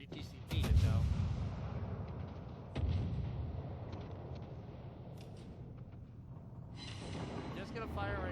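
Warship guns firing in World of Warships, with two heavy booming salvos a couple of seconds apart rolling out over a low battle rumble.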